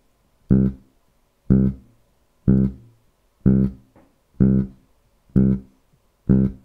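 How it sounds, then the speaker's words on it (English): A bass guitar plays a riff as short, detached staccato notes, seven evenly spaced plucks about a second apart, each cut off quickly, close and clear with no talking. "you can just try very staccato notes, so very detached, very short"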